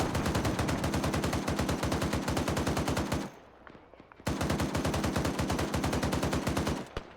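Sustained automatic gunfire aimed at warehouse windows in the Arma 3 video game, loud and close. Two long rapid bursts are split by a pause of about a second.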